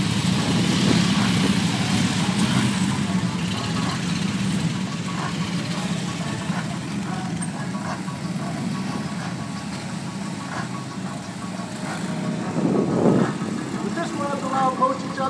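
Police motorcycles idling as they warm up at a display show, producing a steady low engine rumble with a slight swell near the end, under indistinct voices.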